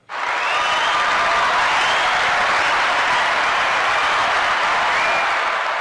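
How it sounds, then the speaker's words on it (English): Dense, steady applause from a crowd, sustained and fairly loud for several seconds, with faint whistles riding over the broadband clatter and no clear talk. "Well, let's give a round of applause to Joe."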